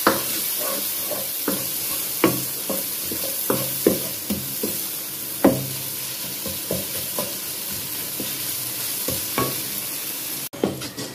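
A spoon scrapes and taps repeatedly through chaat masala, red chili and chili flakes in a pan, steady knocks roughly every half second to second over a low sizzle, close and clear, ending with a sudden cut.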